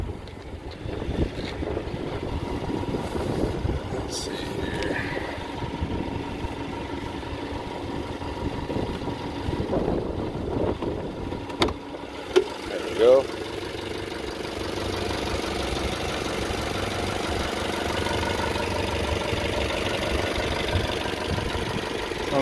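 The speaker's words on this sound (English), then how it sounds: "Sounds like your typical four-cylinder engine." Four-cylinder car engine idling with the hood open, a loud, steady close hum held throughout, with a few brief knocks and clatters partway through.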